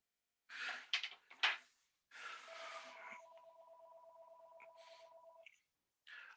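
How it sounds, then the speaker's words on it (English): A mobile phone set to silent mode keeps sounding, a steady electronic tone lasting a few seconds after some brief rustling knocks, fairly faint in a quiet room. "I put that darn phone on silent mode. It just won't shut up."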